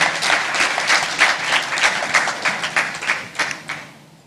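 Audience applause fills a ceremony hall at an education achievers award event, a steady, dense patter of many hands clapping together before tapering off near the end.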